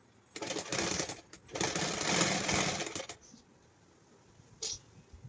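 A sewing machine stitches a palazzo pant seam in two loud mechanical bursts of rapid whirring, a pause between them, then quieter handling noises.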